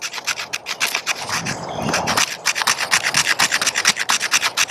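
Mora Garberg carbon or stainless bushcraft knife scraping poplar wood: close, loud rhythmic rasping strokes, fast and repeated, with a brief longer drag in the middle, no talking.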